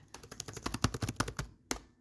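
Quick bursts of keystrokes on a computer keyboard, close and distinct, a rapid irregular run of clicks ending with a single tap after a short pause.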